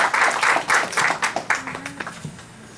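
Audience applause at the close of a city council candidate forum: a burst of clapping that thins into scattered claps and fades, with a short voiced sound in the middle.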